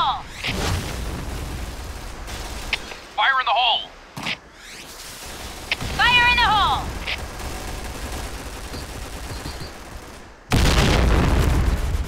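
Explosions and bursts of gunfire in a Point Blank clan war on the Downtown map, loud sharp blasts with a big low boom near the end, mixed with voices shouting over the game sounds.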